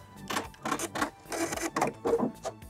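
Sewing machine back stitching a seam on a leg warmer made from an upcycled sweater: quiet, close mechanical rattling in short rhythmic bursts of stitching, no voices.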